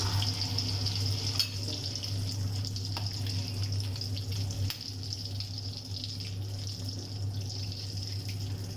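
Egg-dipped eggplant slices frying in a pan give a steady, close sizzling hiss over a low hum that carries on evenly throughout.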